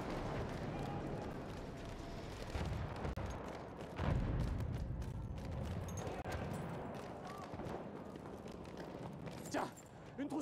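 Gunfire rings out during a Battlefield 1 multiplayer match: scattered shots and rumbling battle noise over a dense, busy soundscape, with someone talking throughout.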